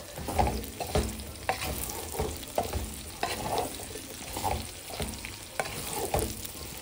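Okra frying in oil in a pan for a bhindi masala curry: a steady close sizzle, broken by repeated scraping and clattering as the pieces are stirred.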